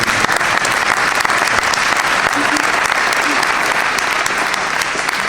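Loud, continuous audience applause at an award ceremony in Turin honouring Martin Scorsese, a thick wash of many hands clapping at close range throughout.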